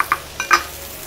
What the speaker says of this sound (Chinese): 我就落咗意大利瓜先，因為點解呢？我想因為中途我會攞翻起嘅，因為我想去先炒一炒